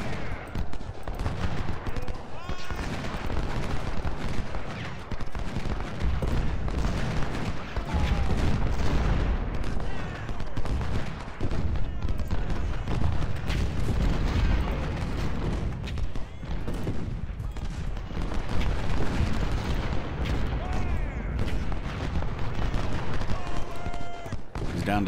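Artillery and musket fire in the Ultimate General Civil War game, dense continuous volleys and booming cannon shots rolling through a battle, loud throughout, with someone talking over it.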